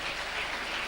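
An audience at a young scientists award ceremony in Tanzania claps and cheers for the event sponsors, a steady, dense wash of many hands applauding at moderate distance throughout, with no talk.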